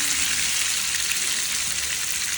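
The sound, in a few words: fish frying in hot oil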